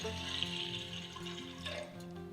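Water pouring into a large pan set up for steaming, a steady close splashing flow with faucet-like texture, about one and a half glasses of water, running continuously without talk.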